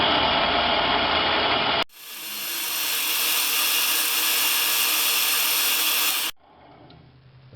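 A milling machine spindle spins up with an edge finder in the chuck, a steady close whir and high whine holding for several seconds before cutting off, with quieter shop noise either side.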